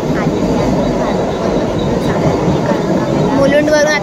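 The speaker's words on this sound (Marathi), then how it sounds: "ट्रेनचा आवाज खूप जास्त आहे" Suburban train pulling into Mulund station in Mumbai, a loud continuous rumble and metallic clatter of wagons with squealing tones near the end, close by and steady throughout, with platform crowd noise mixed in.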